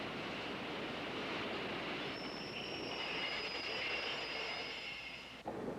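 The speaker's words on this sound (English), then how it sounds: "Goods are transported by train in South America." A freight train rolls along in South America with a continuous rumbling roar of wagons on the rails. Midway a high, sustained wheel squeal begins and holds until it cuts off near the end.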